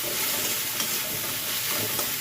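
Dried fish frying in oil with salt and turmeric, a dense continuous hiss of sizzling at close range, steady and unbroken throughout.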